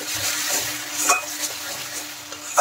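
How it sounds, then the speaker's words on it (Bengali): Masala spice paste stir-fried in oil for an egg-stuffed pointed gourd (potol dorma) dish, a steady close sizzle with a few soft scrapes of stirring throughout, no talking. "এখন এই সব মশলাগুলো একসাথে ভালো করে কষিয়ে নিতে হবে"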